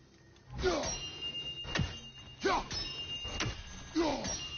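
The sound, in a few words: chimes ringing in video game God of War Ragnarok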